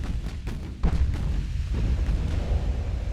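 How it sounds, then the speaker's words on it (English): Naval gunfire from warships in the game Ultimate Admiral: Dreadnoughts, firing HE shells: a steady rumbling barrage of heavy booms with a louder blast near the start, dense and continuous with no talk. "There's the hail of gunfire."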